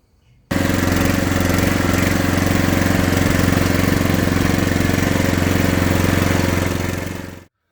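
A petrol generator with a carburettor fuel-starvation fault starts up and runs steadily at close range, its loud droning hum holding even for about seven seconds before cutting off abruptly.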